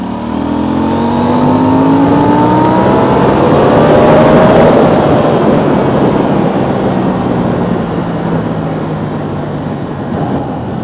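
A KTM 790 motorcycle fitted with an Akrapovic exhaust and Pirelli Diablo Rosso III tyres rides steadily, its engine droning loud and continuous with rising and falling pitch as it accelerates, backed by heavy wind rush.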